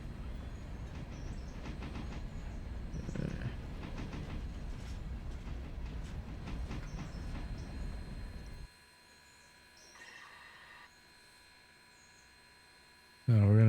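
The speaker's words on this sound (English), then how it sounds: "keep going in reverse because we're gonna flip this train around, actually" Train reversing in the Railroader video game, with a steady low rumble and clacking wheels for several seconds that then cuts to near silence before a sudden loud burst at the end.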